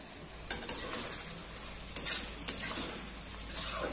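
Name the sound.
frying bread upma with chopped tomato in a pan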